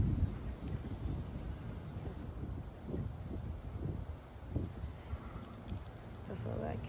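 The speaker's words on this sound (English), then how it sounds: "It's pretty windy out here today." Steady wind gusting outdoors at a fishing pond, a constant low rumble of wind buffeting the microphone with moving water, continuous and fairly loud.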